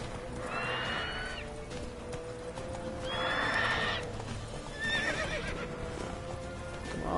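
A horse in the Witcher 3 video game whinnies three times in bright, wavering calls over a steady clip-clop of hooves, with game ambience running continuously underneath.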